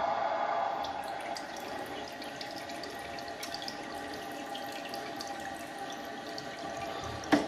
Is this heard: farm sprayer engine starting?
no